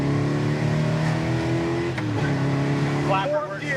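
A 1970 Chevelle SS 454 big block rumbles hard as it accelerates in second gear, a deep steady engine roar heard from inside the car, with a voice speaking briefly near the end.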